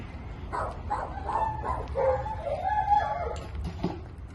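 A dog barks repeatedly in a quick, uneven series of close, moderately loud woofs over a few seconds, with some low background rumble.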